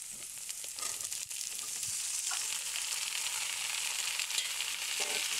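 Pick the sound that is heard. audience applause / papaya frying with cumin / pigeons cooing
papaya frying with cumin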